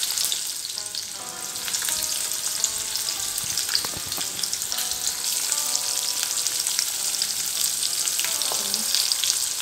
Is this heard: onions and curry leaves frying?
yes